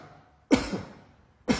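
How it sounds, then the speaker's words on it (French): Two sharp coughs from a person following an exercise instruction, close and loud, the first with a short trailing rasp and the second cut off at the end, with quiet room tone between them. "Dans cette position, je vous demande de tousser."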